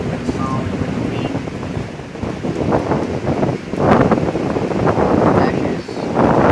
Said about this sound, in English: The sound of the wind.